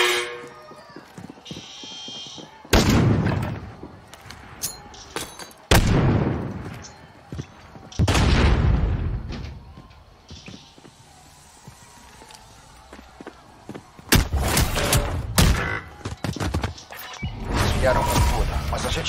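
Gunfire from Call of Duty: Warzone on Xbox One, with repeated loud shots and booming bursts in clusters across the match, mixed with game sounds and voices talking.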